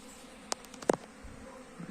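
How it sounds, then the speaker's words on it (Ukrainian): Faint buzzing of honeybees flying near hives outdoors, with a few brief passes drifting in and out over a quiet background. "як літає бджола."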